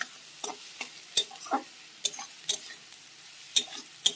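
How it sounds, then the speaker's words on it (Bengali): Mixed vegetables fry in a pan with whole cumin and dried chilli, a faint sizzle under sharp, irregular scrapes and taps of a spatula stirring against the metal, close and without speech. "গোটা জিরে আর শুকনো লঙ্কা দিয়ে দিয়েছি সোমবারে।"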